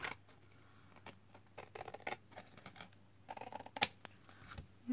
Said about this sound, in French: Je le coupe.